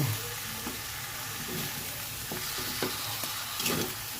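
Salt is stirred into chicken curry in a pan, with a spoon scraping and knocking now and then over a steady sizzle.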